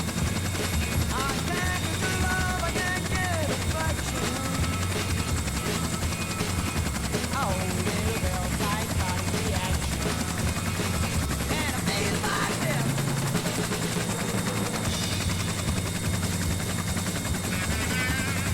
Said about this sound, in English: As long as the helo noise drowns it out, we're good.